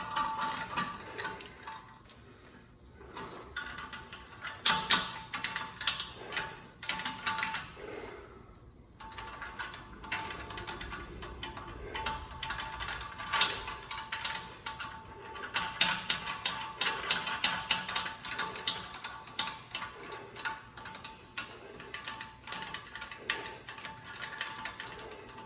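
A ratchet clicks in quick repeated bursts with short pauses as a hose clamp is tightened onto the exhaust Y pipe of a 2014 Ford Explorer, close and fairly quiet.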